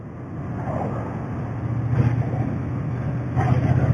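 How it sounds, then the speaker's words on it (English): A Triumph Bonneville T120 fitted with Vance Hines twin pea shooter exhaust pipes gives a throaty, pulsing low drone that swells in two louder bursts, heard up close while riding. "It does sound really nice, that exhaust system."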